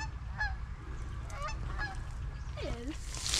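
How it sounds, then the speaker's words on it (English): Waterfowl honking by a river in Alberta while camping, several short nasal calls spread across a few seconds with a louder descending call near the end, heard at moderate distance over a steady low rumble of outdoor background noise. "Oh, here comes some ducks."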